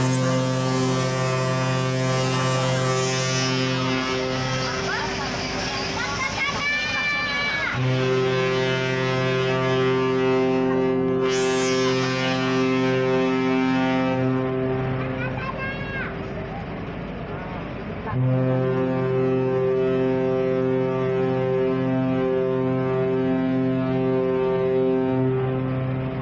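The KM Binaiya passenger ship sounds its deep horn in long sustained blasts while departing port at night, loud and close with wind and background noise between the blasts.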